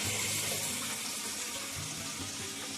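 Kitchen tap water runs steadily into a sink while dishes are washed, a close, constant splashing hiss with faint clinks underneath and no talk.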